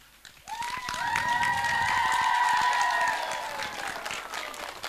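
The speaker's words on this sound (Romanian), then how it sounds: "Să aplaudăm încă o dată pe bunul prietenul și..." An outdoor audience at a 2017 village festival in Gura Ocniței, Romania, bursts into sustained applause for a guest on stage, with dense clapping swelling then slowly fading, a drawn-out musical tone riding over it.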